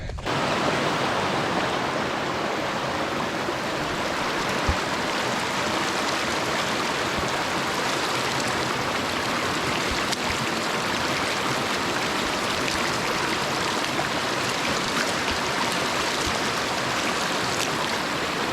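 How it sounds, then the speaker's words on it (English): Cold mountain stream water on a hilly running trail rushes continuously, a loud, close, broadband wash of flowing water with no voices. "Nice cold mountain water, baby."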